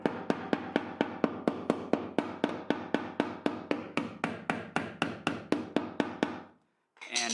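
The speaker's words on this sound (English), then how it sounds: "where's my hammer? Right here. Kind of gently just trying to relieve some pressure" A hammer gently taps a damaged Infiniti G35 body panel in a steady, even rhythm, around twenty close, crisp strikes, then stops.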